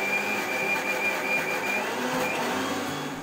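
A kitchen mixer grinds dosa batter paste with a constant, loud, close motor whine and a rattling churn that holds steady throughout, fading slightly at the very end.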